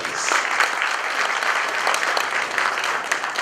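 An audience at a formal state courtesy visit bursts into sustained applause, a dense, even roar of many hands clapping close by that holds steady for several seconds with no talk.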